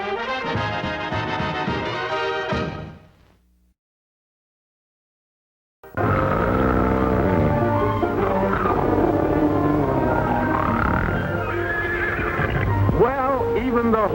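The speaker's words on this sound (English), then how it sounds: "even the horse is laughing" A horse lets out a long, high whinny, then after a brief silence music swells with another neigh rising through it.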